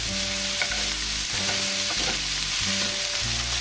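A loud, close, continuous sizzle of a winter stir fry being turned in a pan, with a few scraping and clattering strokes of the utensil over a steady background hum, no voices.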